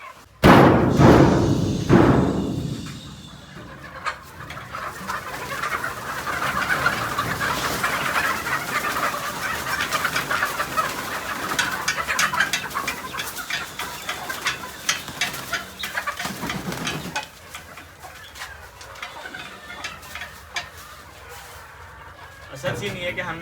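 Chickens and roosters are let out of their coop, clucking and fluttering amid thumps of movement, while someone talks over the birds.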